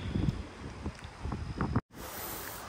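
Strong gusty wind buffets the microphone outdoors on a stormy day, rising and falling in rough bursts, with a brief dropout partway through and steadier blowing afterward.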